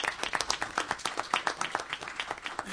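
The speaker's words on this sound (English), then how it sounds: "Let's give them another round of applause." A brief round of applause from a small audience at a city meeting, scattered individual claps rather than a dense roar, moderately quiet and fairly close.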